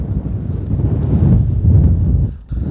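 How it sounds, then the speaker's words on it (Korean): Wind buffets the microphone on a golf course as a steady, loud low rumble with gusts swelling and easing, briefly dipping near the end; no talk is heard. "바람 봐"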